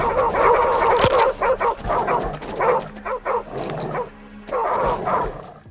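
A dog in a video game barks, yips and whimpers after being shot, with repeated sharp yelps and pained cries coming in bursts over about six seconds, loud and close.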